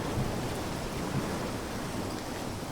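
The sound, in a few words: storm waves beating against a ship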